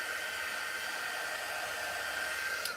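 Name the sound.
heat tool blowing hot air on a rub-on transfer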